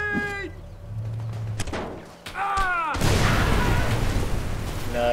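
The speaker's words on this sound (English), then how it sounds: "Love taking out a Jeep with one grenade." In the game Mercenaries 2, a grenade blows up a jeep: tonal game sounds and a few thuds give way to a loud, sudden explosion that rolls into a long, roaring, noisy rumble.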